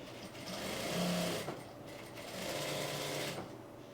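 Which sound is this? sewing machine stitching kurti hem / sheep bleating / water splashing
sewing machine stitching kurti hem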